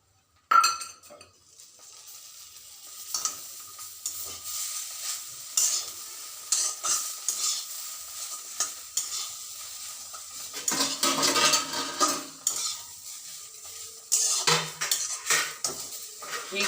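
Palya is stirred into bread toast in a metal pan: a spatula scrapes and clinks against the pan in steady, irregular strokes over a light sizzle of frying, close and fairly loud, with no talking.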